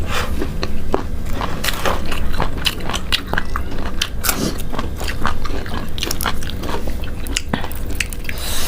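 Someone bites into and chews small Thai fermented pork sausage (naem), with close, crisp crunching and moist chewing repeating steadily throughout.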